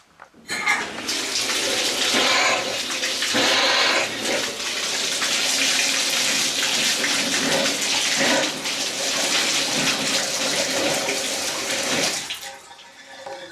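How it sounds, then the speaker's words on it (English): Water gushes steadily from a repaired Delta shower faucet after the supply line is turned back on, a loud continuous broadband rush starting abruptly and running nearly the whole clip before cutting off. "We're going to turn the faucet on."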